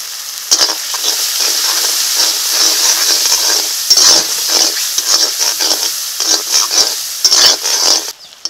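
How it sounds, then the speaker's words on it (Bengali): A spice masala with chopped tomato, turmeric and salt fries in a pan and is stirred repeatedly, producing loud, bursty sizzling with rhythmic spatula scrapes and clanks and no talking, ahead of adding quail meat. "অল্প করে জল দিয়ে মশলাটাকে ভালো করে কষিয়ে নেব।"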